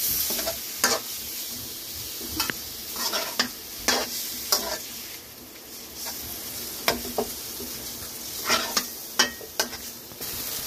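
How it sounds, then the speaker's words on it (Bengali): Raw banana paste fries in a pan with a low, constant sizzle. A spatula is stirred through it, making irregular scraping strokes close by. "এটাকে নেড়ে দেওয়া হচ্ছে"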